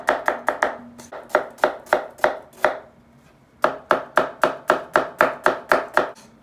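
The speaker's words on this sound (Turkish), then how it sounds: "Soğanımızı aynı robottan çeker gibi çok ince doğrayacağız." A knife finely chops an onion rapidly on a cutting board in two steady bursts of crisp, evenly spaced strikes, with a short pause between them.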